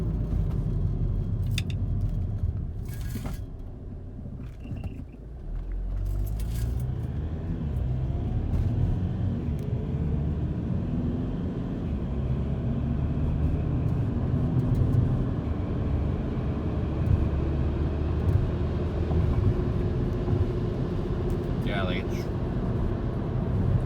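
A Volkswagen TDI diesel car with a DSG gearbox and tuned software accelerates gently in normal driving, its steady low engine drone and road rumble continuous throughout, with someone talking over it.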